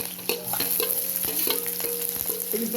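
Sliced onions, garlic and ginger fry in a pan for masala khichdi. A constant close sizzle runs under quick, regular stirring scrapes, with no voices.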